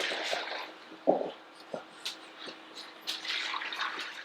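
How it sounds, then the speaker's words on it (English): Liquid is poured into a crock pot during outdoor cooking for a large group, heard as a run of splashes and glugging spurts with short pauses between them. A brief spoken word comes early on. "we're gonna pour half of it inside one crock pot, and we're going to pour half in the other."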